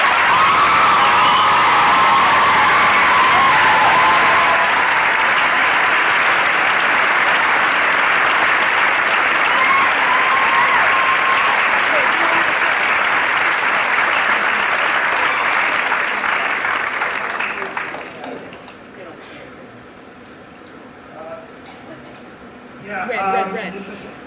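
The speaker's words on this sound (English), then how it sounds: "I'd like to give them a big round of applause" Sustained audience applause with cheering at a 1995 Laura Secord Secondary School production of Damn Yankees, dense and loud for about seventeen seconds before thinning into scattered claps and a brief late swell.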